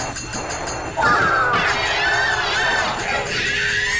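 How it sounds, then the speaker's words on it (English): A thrown monkey bomb in the Der Riese zombies map of a video game screams in agony inside a furnace, a shrill, wavering, crowd-like wail that surges after a second and keeps shrieking loudly throughout. "When thrown into the furnace on Der Riese, these bombs failed to play their typical jingle. Instead, they screamed in agony."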